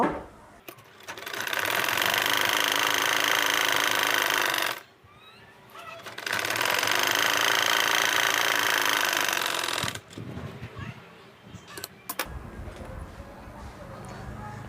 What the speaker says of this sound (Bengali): এবার এই বরাবর সেলাই করব